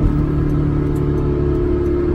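A Honda S2000 AP1 sports car with a 6-speed gearbox, heard from inside as a loud, steady engine drone with a firm low hum, close and continuous, with no one talking.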